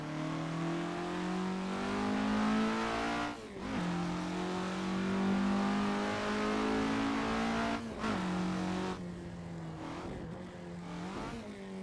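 A 1965 Alfa Romeo GTA races in the Assetto Corsa game, its small engine droning and revving steadily near and loud, dropping sharply on gear shifts or lifts around a few points before climbing again.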